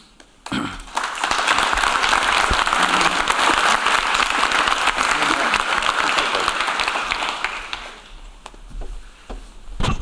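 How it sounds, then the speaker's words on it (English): Audience applause at an urban debate league space policy day for a guest speaker, Captain Kelly: a loud, full burst of clapping that starts suddenly, holds steady for several seconds, then thins out into scattered claps. "we want to give Captain Kelly another round of applause for joining us today"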